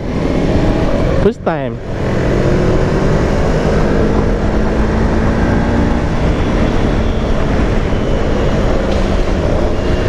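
A Modenas Kawasaki Ninja 250i motorcycle ridden at speed, with a constant engine and wind roar and one sharp swooshing pass early on; a voice speaks briefly over it.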